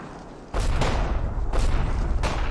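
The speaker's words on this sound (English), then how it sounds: "The Germans are shelling my trench line." Artillery shells landing on a trench line in the video game Combat Mission Rome to Victory, with three heavy booming impacts that each leave a rumbling roll behind them, loud and close, with no one talking.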